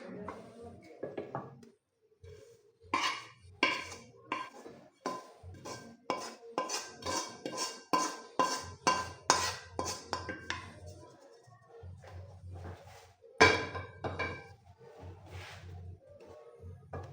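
A spoon scrapes and knocks steadily against a pan while the flax seed pinni mixture is stirred, a close, rapid run of metallic clinks that slows briefly near the end.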